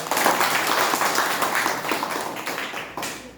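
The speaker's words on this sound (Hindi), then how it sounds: "ताली बजाएंगे आप लोग" An audience claps together in a short, lively burst that fades out after a few seconds.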